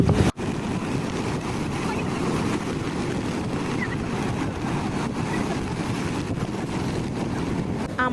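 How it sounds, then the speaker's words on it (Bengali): Sea waves wash in at a beach under heavy wind and rain, with constant gusty wind buffeting the microphone over the surf. "সাগরে এতটা ঢেউ ছিল আর অনেক বাতাস বৃষ্টি ছিল।"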